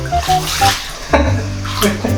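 A handheld shower sprays water while a dog is washed indoors, with loud splashing and gushing in uneven bursts and a voice heard faintly between them.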